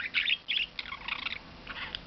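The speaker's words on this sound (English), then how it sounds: "Budgie Bird." Close, faint budgerigar chirps and warbling twitters come in short, repeated bursts with brief pauses between them.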